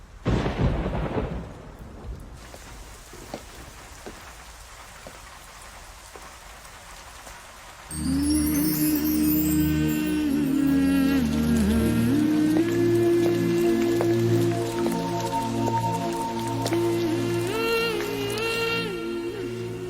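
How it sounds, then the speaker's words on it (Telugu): A movie scene: steady rain falls with a rumble of thunder early on; partway through, a melodic tune begins over the downpour. "వర్షం పడుతోంది"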